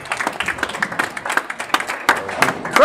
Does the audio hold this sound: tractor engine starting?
no